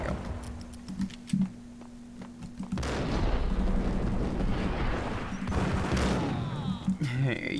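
Grenade blast in Max Payne: a few scattered shots and clicks, then a heavy rumbling explosion with a long roaring tail that fades before a brief clatter at the end.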